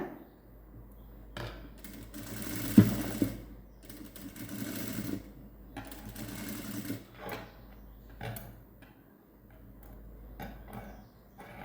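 A sewing machine stitches an old silk saree into a gown, running in short bursts with pauses and light mechanical clatter at a moderate, close level.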